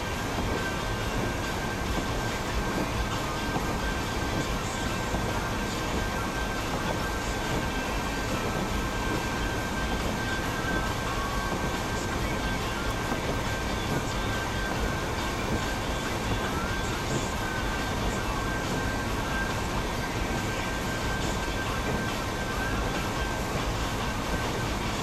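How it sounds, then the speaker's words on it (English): A train rolls by on the left during a snowstorm in Vancouver, BC, with a high rail truck nearby, producing a continuous broadband roar and rumble with a faint steady tone above it, loud and unbroken throughout. "Train to the left or the right? It's to the left of us."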